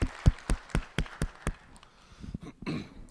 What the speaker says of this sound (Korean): 우리 받으신 주님께 감사의 박수.